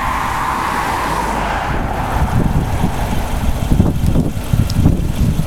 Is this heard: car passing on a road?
yes